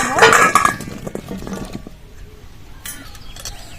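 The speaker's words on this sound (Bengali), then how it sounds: "সব আম কেটে নিয়েছি এই বাটির মধ্যে ঢেলে" Cut raw mango pieces poured into a bowl for pickle: a close, loud clattering rush of pieces hitting the bowl at the start, then thinning into scattered soft knocks and clinks while a voice speaks.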